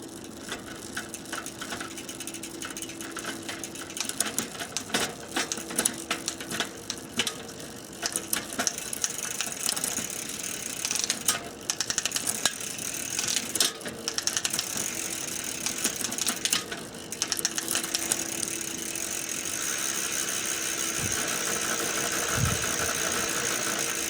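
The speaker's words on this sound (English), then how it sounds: "let's run her through the gears and see what we got" The drivetrain of a 2016 Schwinn Memento bicycle whirs steadily as the pedals turn, with ratcheting clicks and gear-shift clunks scattered through a long, close mechanical run.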